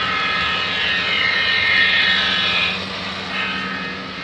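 A model RSD5 diesel locomotive runs on a model railway layout, giving a steady mechanical whir and hum close by that swells and then eases slightly as it passes, with no voices.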